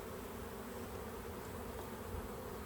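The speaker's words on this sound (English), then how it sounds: "I've got a couple of bees who are starting to bother me" Honey bees drone continuously around an open hive during an inspection, a dense steady buzz filling the space close by with no voices.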